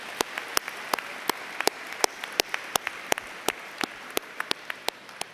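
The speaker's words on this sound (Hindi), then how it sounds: "एक बार खुद के लिए ताली बजा लो" An audience at a spiritual gathering clapping for themselves, a loose stream of sharp, distinct claps from a small group, fairly close and without talk.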